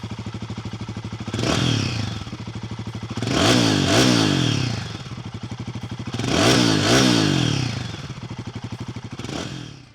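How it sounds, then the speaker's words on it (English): A Royal Enfield Guerrilla 450 motorcycle engine rumbles at idle, then roars loudly through several revving bursts, each swelling and falling back, close and strong throughout. "brilliant exhaust sound, which just roars and roars"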